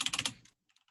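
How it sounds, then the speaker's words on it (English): A quick burst of keystrokes on a computer keyboard, about five crisp clicks in rapid succession, followed by a few fainter scattered taps, close and clear with no talking. "type this out for you"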